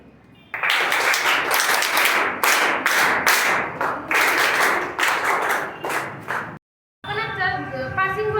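Schoolchildren applaud a game winner at a Saturday school celebration: dense, lively group clapping that goes on for several seconds, then breaks off briefly before a voice comes in.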